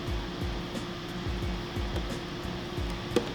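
A sewing machine motor whirs steadily while stitching a fabric mask, a low mechanical drone with rhythmic pulses of the needle, close and continuous with a small click near the end.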